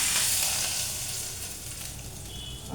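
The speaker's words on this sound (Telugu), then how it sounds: "చూడండి, పోపు పెట్టేసాను." Mustard seeds, pepper and green chilies sizzle in hot oil for a tempering, a loud, steady close-up hiss with faint crackles throughout.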